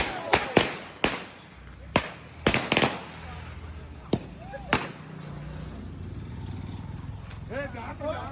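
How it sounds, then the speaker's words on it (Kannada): Firecrackers set off for Diwali at an office burst in a loud, irregular string of sharp bangs, some close together, with a background hum and voices nearby. "ಪಟಾಕಿ ನೋಡ್ಕೊಂಡು ಹಚ್ಚ್ರಿ ಎಲ್ರು"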